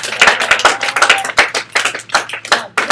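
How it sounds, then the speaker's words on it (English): A classroom group claps and applauds for a student volunteer: loud, dense, irregular hand claps close by that carry on without a break and overlap, with no talking. "Everyone clap for him."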